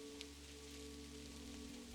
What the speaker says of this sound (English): Listen to the rain upon the roof.